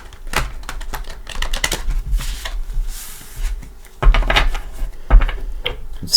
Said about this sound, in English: Give it a couple shuffles.